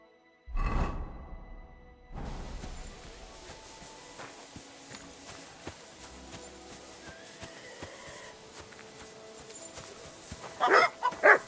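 A dog in the medieval role-playing game Kingdom Come Deliverance 2 gives a short bark, followed by a long stretch of quieter game ambience with scattered small sounds and a louder burst near the end.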